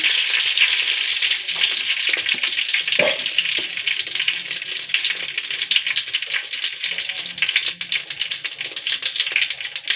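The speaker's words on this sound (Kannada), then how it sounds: "ಇದು ಚಟ ಚಟ ಅಂತ ಇದೆ" Mustard seeds and cumin crackling in hot oil for drumstick saaru, a loud dense spatter of rapid pops and sizzle, close and continuous throughout with no voices.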